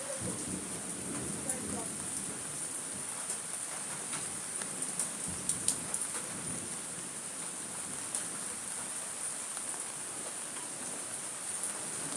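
Steady rain pours down during a storm in Hanover, Jamaica, a constant hiss with occasional louder drops and faint low rumbles, while a few voices talk quietly underneath.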